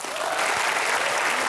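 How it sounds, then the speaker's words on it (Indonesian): A studio audience on an Indonesian talk show breaks into dense, continuous applause, loud and close, with no talking over it. "Tepuk tangan dong."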